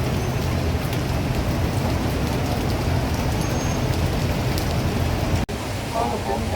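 Heavy rain pours steadily on Prince Edward Street, a dense, loud, unbroken hiss that fills the whole stretch, with a sharp dropout near the end before the downpour continues.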